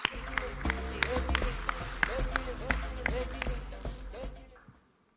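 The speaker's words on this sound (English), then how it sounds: "Let's give her a round of applause." An event audience at a Nigerian state gathering breaks into a round of applause, steady clapping with strong musical backing underneath, ending as the sound fades out near the close.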